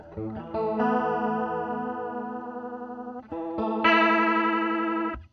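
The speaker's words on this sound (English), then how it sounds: "we'll switch back to our chorus" Electric guitar played through a chorus modulation pedal, sustained notes and chords with a wavering, doubled shimmer, moderately loud with a short break midway and no voices.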